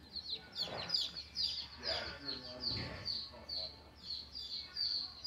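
Unsexed chicks, including breeds such as Cream Legbar, Easter Egger and leghorn, peep in a farm store, a steady series of high chirps close by with soft voices underneath.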